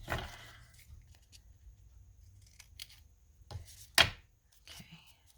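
Scissors snip through folded paper while making layered faux envelope page embellishments, a few quiet cuts and rustles followed by one sharp, close snip, with faint background noise.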